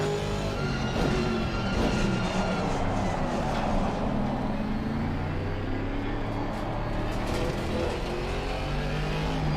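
Aston Martin race car from Assetto Corsa Competizione running at Misano, its engine droning steadily and loudly with shifting harmonics throughout, no voices over it.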